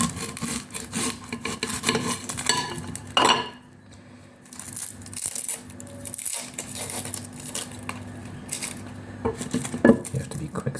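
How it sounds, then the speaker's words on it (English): Onion diced fast on a cutting board with a knife, a stream of quick, close chopping and scraping taps that pauses briefly partway through, with faint clinks of kitchen utensils near a pot of boiling water. "I'm going to quickly dice this onion."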